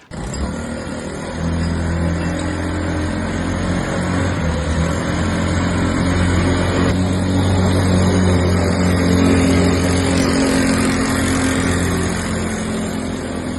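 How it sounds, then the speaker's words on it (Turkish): Homemade vehicle built for disabled people, its small engine starting and then running at a steady, loud, buzzing idle with a slight rise in revs near the middle, close to the listener. "Tabii ki arabanın bir sesini duymak için çalıştıracağız."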